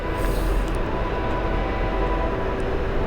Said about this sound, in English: Hear the train in the background.